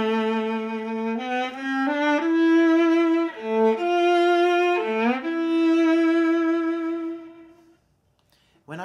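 A solo viola plays a passage from Schubert's Arpeggione Sonata, sustained bowed notes joined by audible sliding shifts between positions, alone and close up, with the last note fading before a brief sound at the end.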